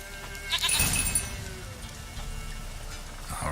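A goat in the video game The Witcher 3: Wild Hunt lets out a single bleat near the start, heard over steady outdoor game ambience.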